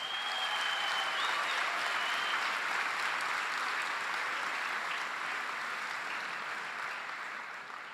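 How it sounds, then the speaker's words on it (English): Graduates at a December science graduation ceremony receive sustained, dense applause from a large indoor crowd, steady and loud throughout before easing slightly at the end. "Let's give a warm round of applause to our amazing graduates."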